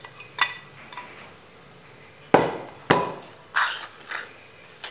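Roasted spices are added to cooled mustard oil for an amla gooseberry pickle, with several sharp clinks and scrapes of a utensil against a metal bowl, spaced irregularly and fairly close.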